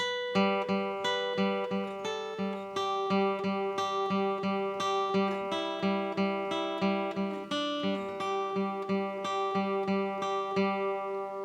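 An acoustic guitar plays the interlude of a song as a clean, repeating pattern of plucked notes with ringing high strings, close and alone.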